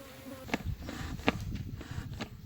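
A couple of honeybees on a beekeeper's hand beside the hives make a close, continuous buzzing hum. Louder wingbeat surges pass by now and then.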